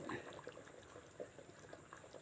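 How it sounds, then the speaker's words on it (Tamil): Sila fish curry bubbling in a pot, a soft, steady seethe of small bursts and trickling liquid, faint and close, with no talking. "இப்போ குழம்பு நல்லா கொதிச்சிருச்சு"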